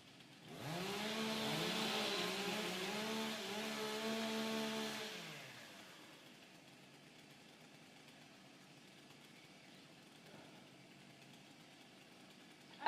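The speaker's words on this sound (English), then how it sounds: "Warm up your saw." Several STIHL stock saw chainsaws at a women's timbersports championship rev up and idle while warming up, a revving, buzzing engine drone lasting about five seconds, then a quieter steady idle beneath faint event ambience.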